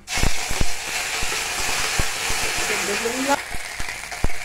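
Black cumin, ginger and green chili sizzle loudly in hot oil, a steady broadband fry with crackling pops and clinks of a utensil, close by; a voice briefly joins near the end.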